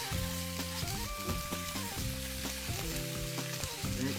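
Crumbled sausage frying in a pan, a steady close sizzle with occasional stirring scrapes and faint background tones, no one speaking.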